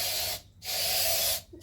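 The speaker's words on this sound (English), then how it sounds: "And Mum spraying an entire trail of ants." Two bursts of insect spray hiss from an aerosol can onto an ant trail, each a second or so long with a short pause between, close and clear.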